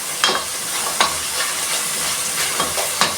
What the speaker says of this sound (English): After 3 minutes, I can now stir my peas together with my minced meat.